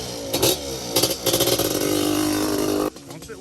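Two-stroke ATV engines such as a Suzuki LT250R, Yamaha Banshee and DS650 rev in short, snarling bursts that rise into a sustained high buzzing wail, then cut off abruptly, with voices mixed in among the engine noise.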